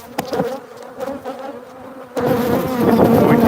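Honey bees buzzing at a hive being fed, a dense close droning hum with a few individual bees passing near at first, then swelling into a louder, fuller swarm buzz.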